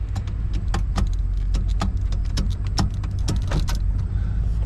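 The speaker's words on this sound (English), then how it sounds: "The shifter barely moves. It cycles through all the gears properly." A Ford truck's gear shifter (Bronco/F-series style) is moved through its gears, giving a run of sharp mechanical clicks and clunks of varying spacing over a steady low rumble, close up and fairly loud.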